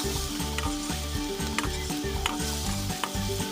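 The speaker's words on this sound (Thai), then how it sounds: "อันนี้ก็มาผัดพริกนะครับ ผัดพริกแกง" Curry chili paste with garlic stir-fried in a hot pan, loud continuous sizzling with rhythmic scraping strokes of a spatula, close up and without talk, over faint background music.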